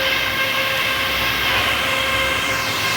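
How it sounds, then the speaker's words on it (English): Loud, continuous rushing air from a powerful machine cooling fan blowing chips and coolant off an herb grinder part, with a steady whine running through the hiss and no pauses. "What the fan does is just blow all the chips and the coolant off."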